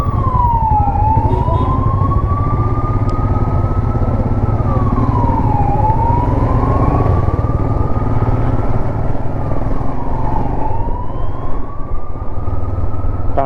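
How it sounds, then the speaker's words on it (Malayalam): An ambulance siren wails on the Srinagar–Jammu highway near roadworks, its rising and falling tone sweeping steadily and loudly over continuous traffic and engine rumble for the whole stretch. "ഇപ്പൊ ഒരു ആംബുലൻസ് ചേട്ടാ വഴി മാറ്റി കൊടുത്തോ"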